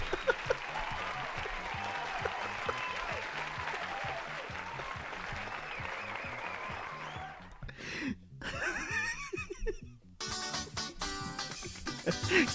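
Audience applause fills the room, sustained dense clapping at steady loudness from a crowd, then it breaks up into scattered bursts and rustling near the end, with a few chuckles mixed in.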